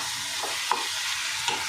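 Prawns and onions sauté in a pan with a steady, close sizzle, while a spatula scrapes and stirs in a few brief strokes spread across the short stretch.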